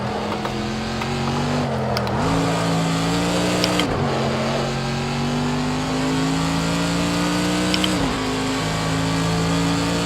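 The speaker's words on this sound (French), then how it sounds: "On laisse la voiture rouler." A GT3 racing car engine in Project Cars 2 roars steadily, pitch climbing and dropping with gear shifts, loud and continuous with no talking.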